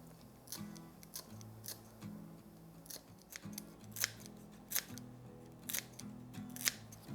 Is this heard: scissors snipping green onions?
yes